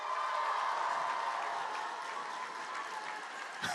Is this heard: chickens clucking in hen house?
no